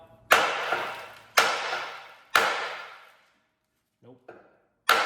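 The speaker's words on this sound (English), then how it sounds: "can I use the hammer and get it out?" Hammer blows on the axle of a Pontiac Fiero during an engine swap: four sharp metallic strikes with ringing decay, three evenly spaced then a pause, a faint clink between them.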